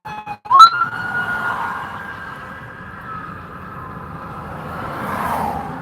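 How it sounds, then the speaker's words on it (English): An ambulance siren wails steadily over road traffic noise on a mountain pass, loud and close after a brief clatter at the start, then slowly fading and shifting. "Well, here comes an ambulance."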